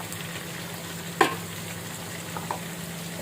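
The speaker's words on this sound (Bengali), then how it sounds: "এখন আমাকে নাড়তে হবে কাঠের নাড়তে দিয়ে, কষিয়ে নিতে হবে আচারটাকে।" Mango pickle with green chilies, salt, turmeric and chili being stirred in a pan with a wooden spatula, a low steady sizzle broken by a sharp knock of the spatula and a few soft scrapes.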